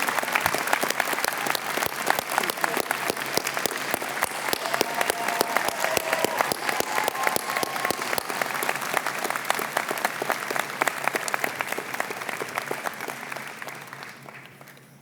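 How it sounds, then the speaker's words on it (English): Dense, steady applause from a convocation ceremony audience fills the hall, many hands clapping together at a sustained level for about fifteen seconds before it begins to taper off near the end. "Can we applaud Mr. Grand Chief Stewart?"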